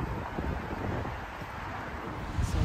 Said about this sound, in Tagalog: Medyo mahangin, oh.